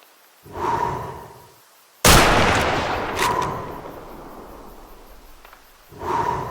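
Hunting rifle shot at a deer in a hunting game, one sharp loud blast with a long rolling echo decaying over several seconds, framed by softer animal snorts or calls before and after.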